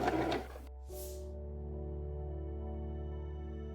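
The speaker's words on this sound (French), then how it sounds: "je vais commencer ma couture ici" A sewing machine begins stitching a dress collar, settling into a faint, even motor hum that runs steadily after a brief rustle at the start.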